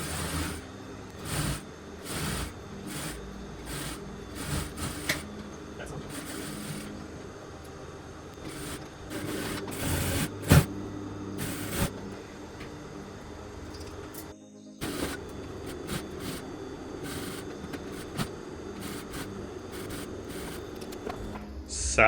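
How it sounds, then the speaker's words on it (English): A sewing machine stitches the side seams of a shirt with a 1.5 cm seam allowance, running in repeated short bursts with pauses between them, plus occasional handling clicks and rustles close by. "So let's bring our shirt over to the sewing machine and stitch the side seams"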